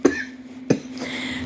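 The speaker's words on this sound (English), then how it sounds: "I'm still trying to recover from this terrible cough" Two sharp, close coughs from one person, the second following about half a second after the first, each a short harsh burst with quiet between them.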